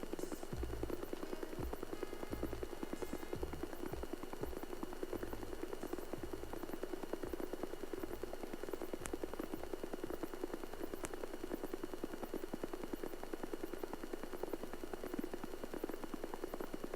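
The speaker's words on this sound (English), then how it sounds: "I think those might be police helicopter, something like that, in training." A police helicopter's rotor thumps in a steady, rapid rhythm from a distance, continuous and even for the whole stretch with no voices.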